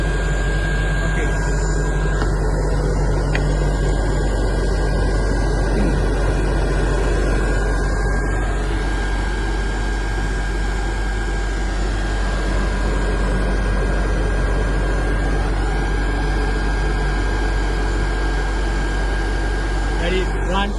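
A flywheel generator winds down toward minimum RPM with a loud, steady, broadband mechanical whir and a high whine holding throughout, close and continuous.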